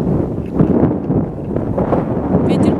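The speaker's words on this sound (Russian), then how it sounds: "Сейчас какой-то ветер шелестит." Low, blustery wind buffets the microphone in uneven gusts, a steady rumbling rush that swells and fades throughout.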